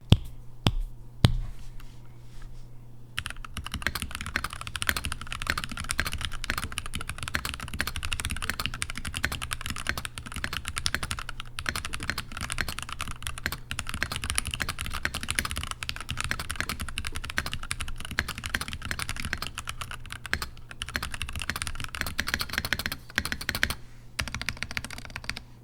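A NuPhy Halo 75 mechanical keyboard being typed on continuously, with dense, rapid clacking keystrokes close up and steady throughout, alone without talk.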